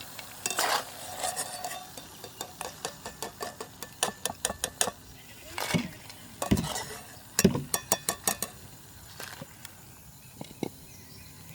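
Cut snack pieces fry in hot oil in a village kitchen, with sizzling under repeated sharp clinks and scrapes of a metal utensil against the pan, coming in quick bursts up close.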